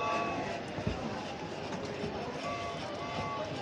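A steady rattling, rolling hum of a small toy train running continuously, with faint clicking, fairly quiet and close.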